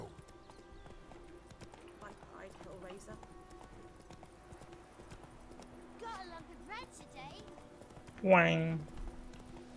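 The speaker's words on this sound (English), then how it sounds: "There's the horse." Horse hooves clip-clop in The Witcher 3 as the mount trots near, a soft rhythmic patter under game ambience and someone talking, followed by a loud whinny near the end.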